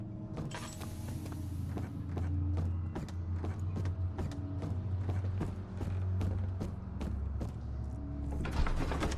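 A creaking door mechanism in the horror game Amnesia, grinding and ratcheting through a run of sharp repeated clicks over a low rumbling drone, fairly loud and steady with a heavier thud near the end.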